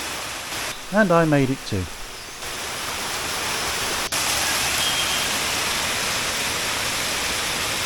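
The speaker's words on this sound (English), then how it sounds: "Palasanon waterfall." Palasanon Falls pours in a steady, loud, broadband rush of falling water that fills the whole scene, with a brief spoken phrase near the start over the roar.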